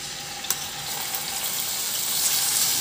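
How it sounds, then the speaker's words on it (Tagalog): Chicken breast frying in hot oil in a pan, a steady bright sizzle with a couple of faint pops, fairly quiet and constant. "Magpainit na ako ng mantika sa kawali at iprito ko na yung breast chicken."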